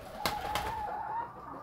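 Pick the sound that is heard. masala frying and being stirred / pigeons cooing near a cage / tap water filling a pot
pigeons cooing near a cage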